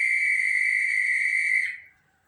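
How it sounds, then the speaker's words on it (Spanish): One long, shrill whistle blast holds steady and loud for about two seconds, then cuts off sharply into near silence. "Es el sonido de un silbato."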